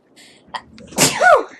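A single loud, close sneeze bursts out after a few faint breathy sounds, standing alone without talk over it.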